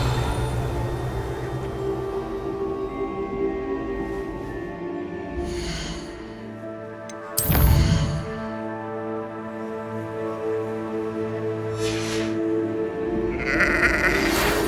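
A sheep in the Hogwarts Legacy video game bleats several times with snorts and breathy sounds, close and clear over a steady background of game music.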